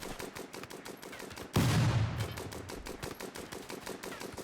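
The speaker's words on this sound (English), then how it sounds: "It's got a minigun on top of it." A Vulcan-style minigun turret fires in Rimworld: rapid, evenly spaced mechanical bursts run the whole way, with one loud, sustained blast roughly a third of the way in that slowly fades back into the continuing rattle.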